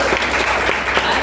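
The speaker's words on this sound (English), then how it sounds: "So a big round of applause to the parents also." A short burst of dense audience applause at an event honouring PU 2 students and their parents, a continuous wash of clapping that holds steady at full strength.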